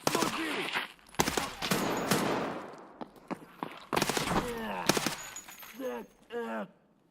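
Short, sharp gunshot bursts in Escape from Tarkov ring out close and loud in uneven clusters, with rifle fire set to burst mode and occasional clattering impacts between.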